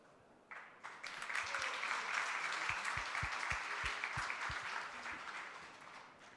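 An audience at a dental forum diploma ceremony breaks into applause that starts abruptly, holds a dense, even wash of clapping, then eases slightly toward the end, with a few low thumps mixed in.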